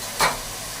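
Tomato and potato curry stirred in a pan on the stove, giving one brief scraping swish with a soft sizzle, close and moderately loud, then a low steady hiss.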